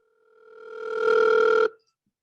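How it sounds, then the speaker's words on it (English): A steady telephone dial tone hums clearly and alone for about a second and a half, then cuts off abruptly into silence. "I'm going to go ahead and get a little dial tone here"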